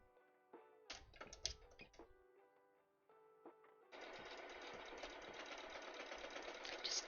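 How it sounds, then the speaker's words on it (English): A sewing machine top-stitching quilted details on cosplay pods runs in stop-start bursts with clicks and pauses, then settles into a steady, close, continuous whirr. "Just top stitching some details in."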